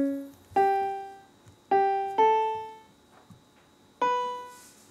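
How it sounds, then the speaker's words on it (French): Synthesized piano notes from a coded program play alone as a few separate, clean, decaying tones, struck one after another in a sparse, irregular rhythm. "Un piano là."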